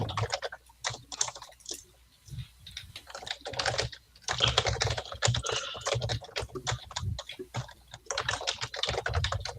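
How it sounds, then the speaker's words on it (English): Rapid, clattering keystrokes on a loud mechanical keyboard, typed in quick bursts with brief pauses, close and prominent. "That is the loudest damn keyboard. It's like a machine typewriter."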